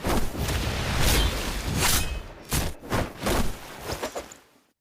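A layered ability effect from Ruined King, Pike's Plunder at normal speed: dense whooshing, crunchy bursts and booming impacts in quick succession, loud and close, then a rapid string of short hits fading out.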